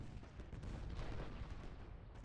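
Artillery booms in the Ultimate General: Gettysburg video game as a faint, continuous low rumble of overlapping cannon fire, a distant battle roar that never breaks.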